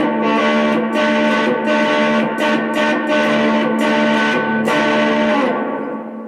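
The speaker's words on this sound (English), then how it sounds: "you get the idea of the kind of distortion I added into a song" Heavily distorted electric guitar played through a Boss Katana Mini amp with a Boss ME-80 multi-effects unit, loud sustained chords with rhythmic picked accents, ringing out and fading at the end.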